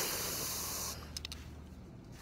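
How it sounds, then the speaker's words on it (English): Bug spray hissing from an aerosol can in a single continuous burst lasting about a second, close and fairly quiet, followed by soft faint rustles. "Spray me in bug spray, please."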